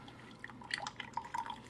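A Keurig K-Supreme coffee maker dispenses a 6 ounce water rinse into a cup, heard as faint, irregular drips and trickles of liquid that are quiet and close.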